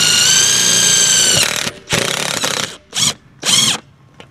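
A power drill drives a self-tapping screw into a wooden greenhouse raised bed. One long, loud, whining run is followed by several shorter bursts as the screw seats, all very close.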